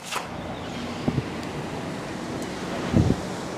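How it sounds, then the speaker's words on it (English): Strong hurricane wind outdoors buffets the microphone in a continuous roar, with a few brief rumbling gusts and knocks. "It is windy, but y'all about to hear it."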